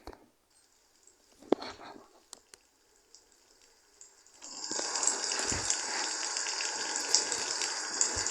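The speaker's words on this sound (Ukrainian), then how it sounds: "А тепер буду напускати водичку." In the Avatar World video game, a bath fills: after a few soft taps and clicks, water from the tap starts suddenly and then runs in a steady, bright gush that continues to the end.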